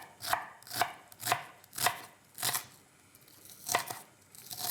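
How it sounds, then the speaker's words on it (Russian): Knife finely chopping onion on a cutting board in a home kitchen while making a meat pizza: sharp, crisp knocks in an uneven rhythm of about eight strikes, close and clear, with no talking. "Лук режу довольно мелко"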